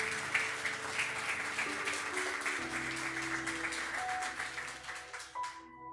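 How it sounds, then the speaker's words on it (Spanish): Congregation applauding the Lord during a Spanish-language church sermon, a steady wash of clapping with sustained tonal music underneath, fading out toward the end. "Dale un aplauso al Señor"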